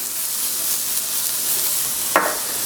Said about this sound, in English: You hear that sound? That is the sound that we want to go for, that nice sizzle.